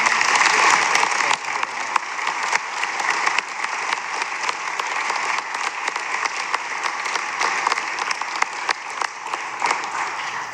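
Sustained audience applause fills a conference room at an EPA recycling summit, dense overlapping claps from many hands, loud and steady for about ten seconds without fading.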